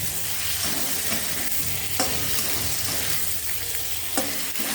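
Pointed gourd frying in oily cooked-down spice paste for a curry-leaf potol curry, with steady loud sizzling and intermittent scraping stir strokes of a spatula against the pan, close up and without talk.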